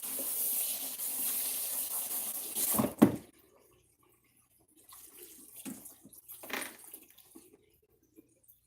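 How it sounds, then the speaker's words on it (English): Warm water runs from a tap while hair is rinsed, a soft spraying flow that stops abruptly after a splash, followed by quiet dripping and faint movement. "And I'm still rinsing with warm water because remember I'm going to condition her next."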